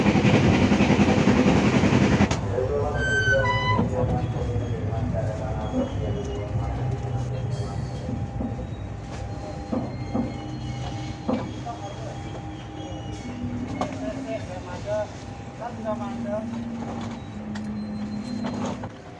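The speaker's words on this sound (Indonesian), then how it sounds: "KA Bengawan kembali diberangkatkan dari stasiun Bekasi jam 5:23 menit" KA Bengawan passenger train departing Bekasi station, with steady rolling rumble, wheel clicks and occasional squeals, heard close under a talking voice throughout.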